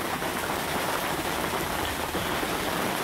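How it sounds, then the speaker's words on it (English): Steady rain shower drums on the deck of a 2006 Larson Cabrio 310 boat in Florida, a dense, even hiss of drops that is loud and close throughout with no talking. "it's starting to get a little noisy with this rain shower here"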